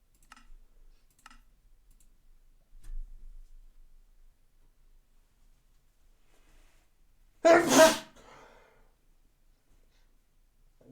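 A single loud, sharp sneeze bursts out close to the microphone amid long stretches of near silence, with a few faint clicks from a computer keyboard before it.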